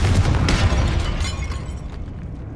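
A Confringo fire spell explodes in the Hogwarts Legacy video game, a loud burst of booming, crackling blast noise that fades away over a couple of seconds, heard on its own.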